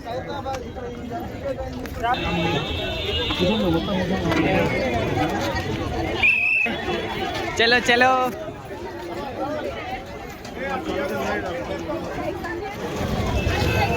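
Dense crowd hubbub at the Khairatabad Ganesh festival in Hyderabad, with overlapping chatter, shouts and footsteps filling the scene continuously; a voice urges people to move along.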